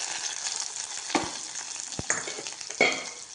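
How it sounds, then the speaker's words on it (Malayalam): Mustard seeds sizzle and crackle in hot coconut oil in a pan, a continuous close frying hiss with a few sharper pops and stirring scrapes, no voices. "വെളിച്ചെണ്ണ ചൂടായിട്ട് കടുക് ഇട്ട് കൊടുക്കാം. ഇതൊന്ന് പൊട്ടട്ടെ."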